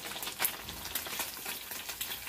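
Lumek fish (Bombay duck) deep-frying until crispy in hot oil, a dense steady crackling sizzle that stays close and loud throughout.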